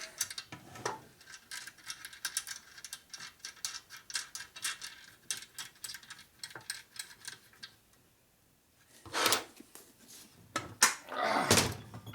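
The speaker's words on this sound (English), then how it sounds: "Now I can torque it." A torque wrench tightens a bolt on a rebuilt 1961 Harley-Davidson Sportster XLCH motor in a workshop, giving fast, crisp ratcheting clicks in bursts, followed by a few louder metallic knocks and handling noises.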